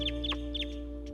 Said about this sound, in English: you just hear birds forever. There's just so much bird life here